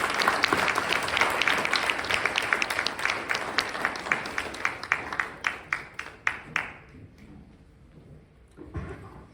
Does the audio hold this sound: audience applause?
yes